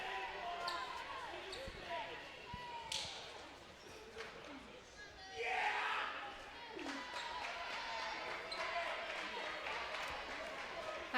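A crowd cheers and rises in Antelope Gymnasium during the fourth set of a GCU vs Vanguard men's volleyball match, a broad swell of noise peaking midway over steady indoor gym ambience with ball bounces and scattered voices.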